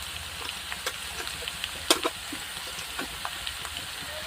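Chili powder and turmeric stir-fried with other spices in a pan, a faint continuous sizzle with soft scraping stirs and a couple of sharper clinks near the middle.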